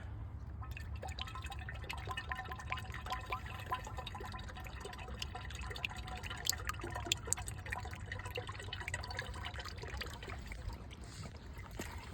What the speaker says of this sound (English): Get your funnel and pour it all the way till you get to the cold fill line.